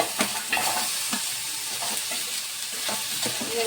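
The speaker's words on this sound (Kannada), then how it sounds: "ಇವಾಗ ನೆಕ್ಸ್ಟ್ ಟೊಮೆಟೊ ಹುರ್ಕೋತೀನಿ ರೀ ಕಟ್ ಮಾಡಿರುವಂಥ ಕಬ್ಬು ಟೊಮೆಟೊ" Chopped tomatoes fry in a pan with a soft, steady sizzle, punctuated by repeated spatula stirs and scrapes at a near distance, no talking.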